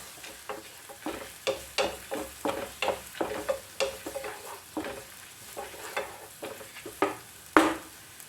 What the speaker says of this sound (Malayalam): ഇനി നമുക്കിതിലേക്ക് സവാള ചേർക്കാം. ഒന്ന് വഴറ്റി കൊടുക്കാം.